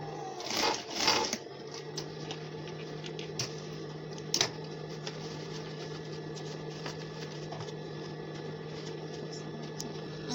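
Sewing machine stitching the waistband of a pair of pants, a faint steady mechanical hum with light clicks and a couple of brief rustling handling bursts near the start.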